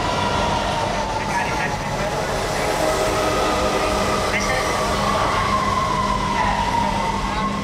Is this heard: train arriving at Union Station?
yes